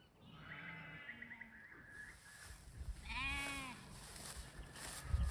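Sheep and lambs bleat in a farm paddock, a few distinct calls at moderate distance, one high lamb cry rising clearly in the middle, with faint rustling and wind around them.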